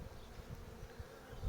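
A steady, close buzz comes from honeybees crowding an open hive frame that holds brood but no honey. The drone stays low and continuous for a moment, and no one talks over it.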